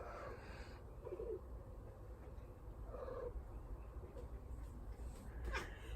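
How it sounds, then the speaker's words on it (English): A domestic cat meows a few times, faint and intermittent over a steady low rumble of background noise, with a couple of short mews spaced a second or two apart. "I love my kitty cats"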